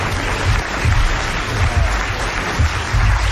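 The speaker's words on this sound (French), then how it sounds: "Alors vous allez applaudir comme elle le mérite, Madame le Prieur" Studio audience applause on a 1981 French television variety show, a steady dense wash of clapping filling the whole stretch at fairly loud level, with no talk over it.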